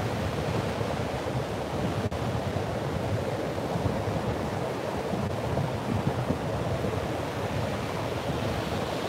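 Constant blustery wind rumbles and buffets the microphone, a dense steady roar with faint surf-like wash and no voices.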